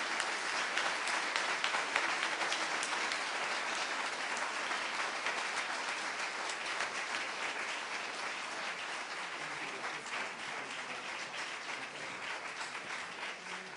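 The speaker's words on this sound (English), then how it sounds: "So I want you to join me in giving a big round of applause to Rick Wolff, Professor Richard Wolff." Sustained applause from a large audience, steady and dense throughout with no voices over it.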